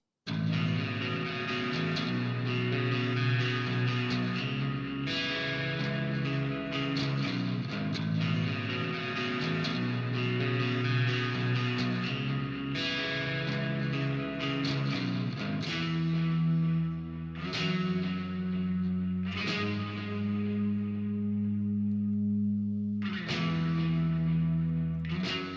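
Clean-toned electric guitar run through the McRocklin Suite plugin plays a lower-register melodic line of sustained, ringing notes with chorus, echo and reverb shimmer, close and steady for about 25 seconds, changing notes every few seconds, with no talking.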